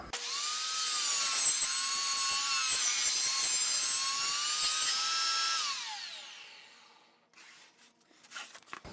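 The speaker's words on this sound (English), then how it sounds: "So I need to bring my blade up." A table saw blade whines loudly through a wood board in one long steady cut, then spins down and fades, followed by faint knocks and handling noises.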